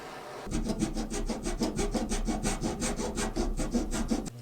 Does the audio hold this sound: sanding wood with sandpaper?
yes